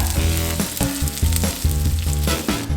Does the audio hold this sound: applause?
no